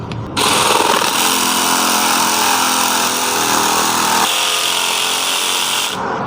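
Dewalt DCS312N cordless reciprocating saw cutting a workpiece, a loud continuous buzzing rasp that starts abruptly, shifts pitch midway and stops sharply at the end, with no voices.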